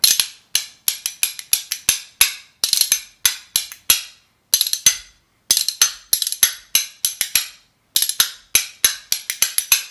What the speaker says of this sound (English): What we're going to do is we're going to alternate the scrape and the basic rhythm that we learned.